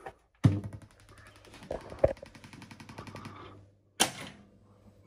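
A Williams Fish Tales pinball machine powers up with a sharp thump, a rattling mechanical chatter and a steady hum, then a bright bong rings out near the end.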